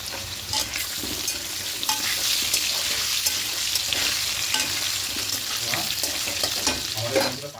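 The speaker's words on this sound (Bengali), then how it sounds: "এগুলো ভাজা ভাজা হয়ে যাচ্ছে" Chopped ingredients frying in hot oil with turmeric powder for a chicken curry, a steady close sizzle and crackle with occasional stirring scrapes, continuous throughout.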